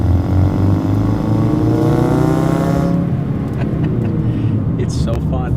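A 2017 Ford Focus RS engine hums steadily and loud while driving, its harmonics rising under continuous talk, then the drone thins and fades somewhat toward the end.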